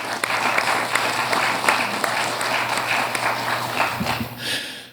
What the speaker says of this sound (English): I'd like a quick round of applause for the people putting on this thing.